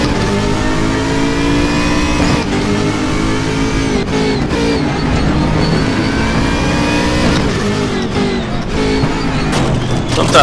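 Race car from the ADAC GT Masters 2014 series in the RaceRoom racing game, engine loud and close, holding a steady high roar with small pitch dips as it accelerates on the throttle.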